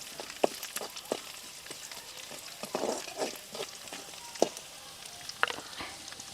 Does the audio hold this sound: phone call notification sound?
no